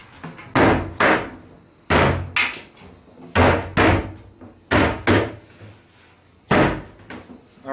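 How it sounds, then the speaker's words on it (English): A tight-fitting wooden part is pounded into place while a mobile shop cart is built. About a dozen sharp, loud, close thuds land in uneven pairs and clusters, with no speech. "We're going to have to kind of pound it down, because it's probably going to be a little bit of a tight fit."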